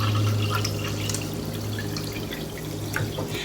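Apple cider vinegar poured from a bottle into a large drinking glass, a steady close liquid stream with light splashing and a constant low hum underneath, no talking.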